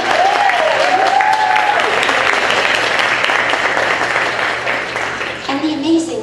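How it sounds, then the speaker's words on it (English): Audience at a CAST Week luncheon breaks into steady, full applause that stays loud and dense throughout, while a voice speaks over the start and again near the end. "Can we have a round of applause for Kim Dolan?"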